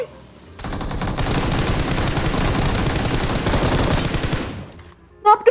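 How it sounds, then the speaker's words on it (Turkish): Sustained rapid automatic gunfire in a video game, a dense continuous burst of shots for about four seconds before cutting off, followed by a few brief sharp sounds. "Bir yerden keskin sıkıyor, bir yerden keskin sıkıyor."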